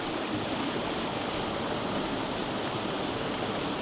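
Talla Falls at Talla Reservoir pouring on a rainy day, a dense, loud, unbroken rush of falling water heard close up with no pauses or other sounds.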